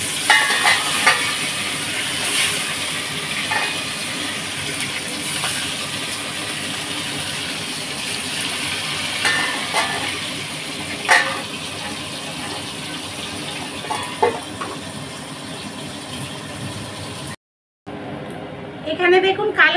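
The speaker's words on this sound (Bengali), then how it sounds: "আর এই আর মাছটা ভেজে নিয়েছি" Fish fries in hot oil seasoned with black cumin, sending up a continuous close sizzle broken by occasional stirring clinks and scrapes, while someone talks over it before a brief silent gap near the end.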